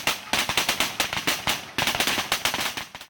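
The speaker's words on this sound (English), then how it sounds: "This is the American M16 assault rifle, used by the mercenary forces on the film." An American M16 assault rifle fires blanks in rapid bursts on a film set, a dense string of sharp, loud cracks in quick irregular rhythm with a brief break midway, with no talking.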